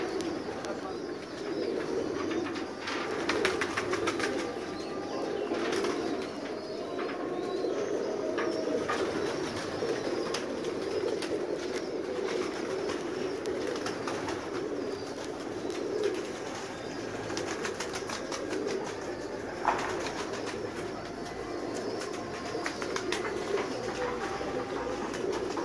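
Pigeons coo softly on a rooftop loft amid occasional wing flaps and bird calls, a steady low murmur with people talking in the background.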